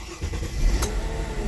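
A car with a P0341 camshaft sensor fault and an extended crank is restarted, its engine churning and catching into a low, steady rumble that stays close and continuous throughout.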